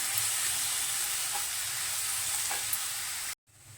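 A spoon stirring coconut chutney with green chillies in a pan, a steady hissing, sizzling rustle that runs continuously, then cuts out abruptly near the end, with no voices.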